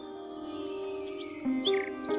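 A koel sings in short, bright, whistled notes over a steady tonal hum, a few calls rising and falling near the end.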